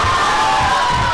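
A wrestling crowd cheers loudly and continuously during a tag team match, a dense roar of many voices with shouts rising above it.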